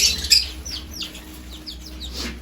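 Chickens and pigeons in a lovebird colony give a series of short, bright chirps and tweets, fairly near and moderately loud, over a faint low hum with no talking.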